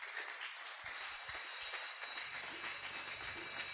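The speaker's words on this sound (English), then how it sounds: "I want you to give him a clapping offering." Church congregation clapping in worship, a dense, steady patter of many hands that stays fairly faint and distant throughout, with a low rumble showing up in the background partway through.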